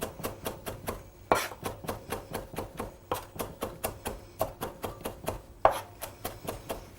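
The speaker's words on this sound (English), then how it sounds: "Then I put it on the board and I start chopping." A chef's knife chopping cilantro, ginger and green chilies on a cutting board, a fast steady run of close, crisp taps with a few heavier knocks mixed in, no talking.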